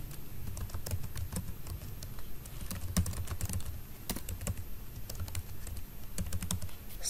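Keys clatter steadily on a computer keyboard while text is typed into an Excel spreadsheet, a continuous run of close, crisp taps with no talking.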